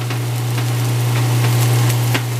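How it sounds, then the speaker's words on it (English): Pieces of tacos de pollo fry in oil that carries bits of meat, giving a constant crackling hiss over a strong steady low hum, with a few brief pops. "so then I take them over here and I fry them"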